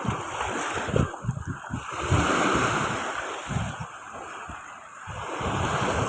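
Rough sea surf crashing and churning continuously at a shoreline, with heavy wind buffeting the microphone throughout; no voices.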